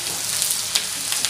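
Onions frying with sugar in a pan for a Bengali home dinner, a steady close sizzle with a few faint stirring ticks and no talk.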